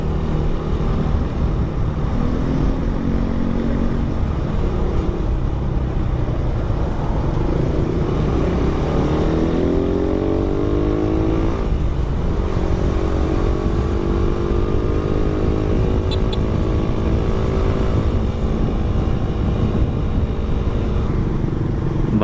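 Four motorcycles, three fuel-injected and one carbureted, on a breakfast ride to Tagaytay, with a continuous loud engine roar whose revs climb and fall as they accelerate. Surrounding road noise runs underneath, with no talking.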